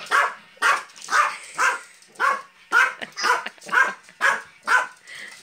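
A small Yorkshire terrier barks excitedly at bubbles, a run of about ten sharp, loud yips in a steady, bouncing rhythm, close by with no talk over it.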